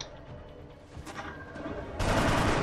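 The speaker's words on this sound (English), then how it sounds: "Okay, I'm actually gonna shoot this time." A soldier fires in the turn-based video game XCOM: Enemy Within, a sustained burst of game gunfire that swells loud near the end over a rumbling game backdrop, with no voice over it.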